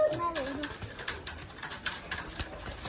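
Pigeons coo softly and repeatedly close by, with scattered chirps and rustling around them.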